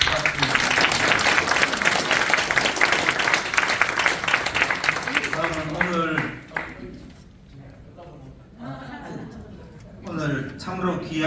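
At a Christian prayer breakfast and Thanksgiving service in a National Assembly meeting room, the crowd applauds a deputy speaker with loud, dense clapping for about six seconds, which gives way to someone speaking.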